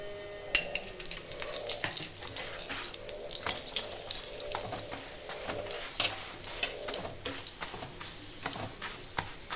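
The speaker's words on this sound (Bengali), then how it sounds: "ওইভাবে আরেকটাও ভেজে নেব" An egg roll frying in oil in a pan in a Bengali home kitchen, soft sizzling and crackling with scattered clinks and pops, fairly quiet and continuous.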